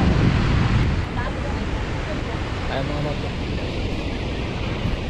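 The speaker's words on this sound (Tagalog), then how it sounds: "Ayun, lalakas ang alon." Strong ocean waves and wind at a coastal lookout in Australia, a loud continuous roar of surf with heavy wind buffeting the microphone and someone speaking briefly over it.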